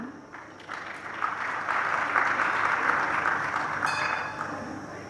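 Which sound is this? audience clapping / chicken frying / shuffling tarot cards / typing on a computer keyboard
audience clapping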